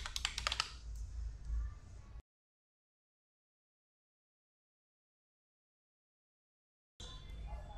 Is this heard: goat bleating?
no